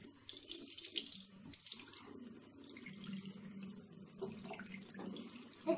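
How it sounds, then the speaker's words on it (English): Tap water runs steadily from a faucet during handwashing, a continuous splashing hiss with small surges near the end, heard alone without talk. "Rinse off the bubbles. Turn off the faucet."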